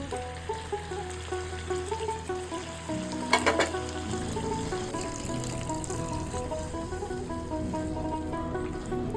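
Onion and capsicum sizzling in a pan as a splash of water goes in for a chilli fish gravy, a steady close hiss and bubbling with a brief louder burst early on, no voices.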